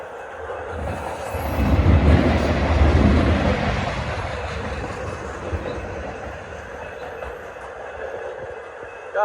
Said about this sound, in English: Got a Norfolk Southern grain train.